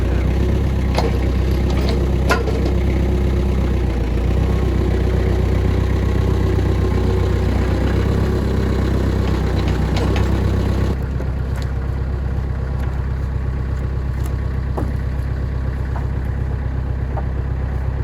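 A tractor engine idles steadily and close by, its low mechanical rumble holding constant and dropping slightly in level partway through, on a farm while pigs are moved to a new pasture shelter.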